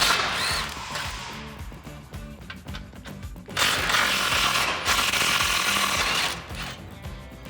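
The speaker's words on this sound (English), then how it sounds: "grab a 17mm socket and remove all 4 bolts holding it on" A ratchet with a 17mm socket backs out the bolts of the driver's side support brace on a 2005-2021 Toyota Tacoma during a lift kit install, giving steady close clicking with a louder, busier stretch in the middle.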